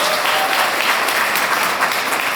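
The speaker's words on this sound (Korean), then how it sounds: "박수 부탁드리겠습니다" Steady applause from a crowd at an English academy ceremony during a donation presentation, dense and continuous throughout, fairly loud and close.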